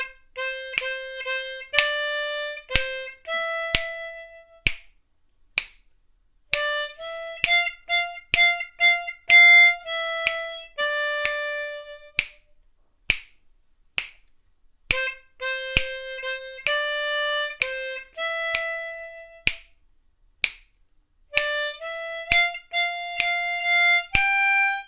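A harmonica plays the full verse, phrases of bright, clear bent and held notes with short breaths between. Close and alone, with no talking.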